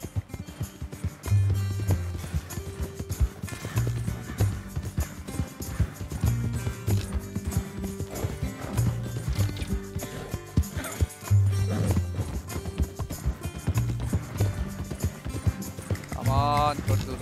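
Horse hooves gallop in a steady clip-clop rhythm in the video game Red Dead Redemption 2, close and continuous across the scene, with a brief whinny near the end and someone talking over the hoofbeats.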